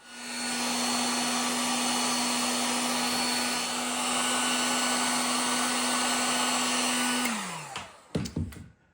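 A heat gun blows steadily for about seven seconds while shrinking heat shrink tubing over wires on an electric range burner sensor, a loud constant whirring hiss that winds down, followed by a few brief clicks and handling noises.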